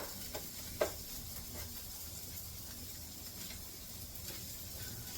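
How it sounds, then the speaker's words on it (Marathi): Masala sautéing in a pan for a bitter gourd curry, a faint, steady sizzle with a few soft clinks of a utensil and no talking. "हा मसाला पण असा छान परतून घेते"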